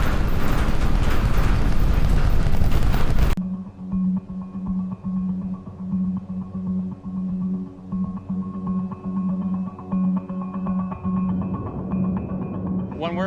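A SpaceX Starship rocket's Raptor booster engines roar as a loud, broad rumble for about three seconds, then cut abruptly to a quieter scene with a steady tonal hum and a voice.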